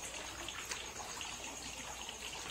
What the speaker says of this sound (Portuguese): aqui com o chafariz ligado